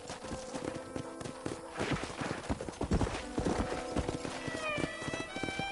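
Hooves clip-clop steadily at a walking pace in a video game, over a low rumbling background, with a horse whinnying and snorting, no speech.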